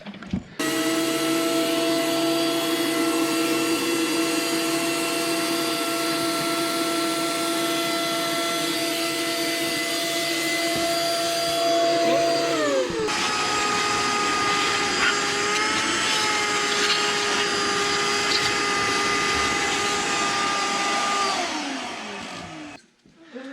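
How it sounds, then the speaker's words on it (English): A vacuum cleaner in an engine repair shop runs with a loud, steady motorized whine and strong tonal hum, dips in pitch midway as the load changes, then winds down at the end. "Can you hand me the vacuum, please?"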